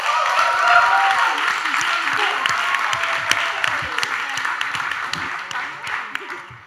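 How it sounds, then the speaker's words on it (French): Applause from an audience at a live tech talk event in Nantes, dense and loud from the start and slowly thinning out, with a few voices mixed into the clapping. "On l'applaudit."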